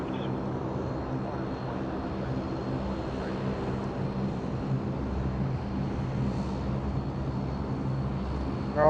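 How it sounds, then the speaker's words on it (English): A Qantas airliner, flight 12, arrives at Sydney Airport, a steady distant engine rumble holding evenly throughout with no talk over it. "looks like we have our big, beautiful Qantas 12"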